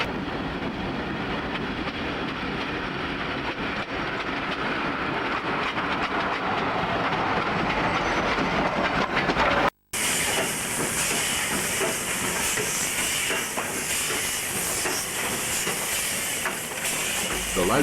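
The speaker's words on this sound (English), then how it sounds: "Loco number 1307 was provided to work a special mixed and other consists along the branch" Steam locomotive 1307 working a special mixed train along the branch to Yass Town in New South Wales: a loud, close, continuous rush of steam hiss and rolling rail noise, cut off briefly midway, then resuming.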